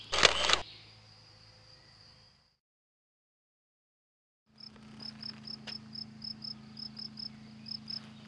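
A camera shutter fires in one sharp, loud burst outdoors on a Black Forest hiking trail. Quiet follows, then crickets chirp in an even, pulsing rhythm.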